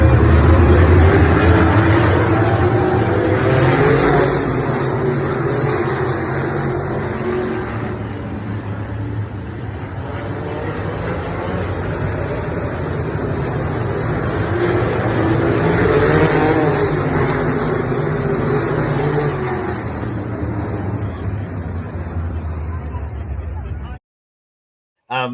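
Race cars roar at the start of a Little Indy race, a loud, continuous engine drone with rising and falling revs that holds steady for over twenty seconds before cutting off abruptly.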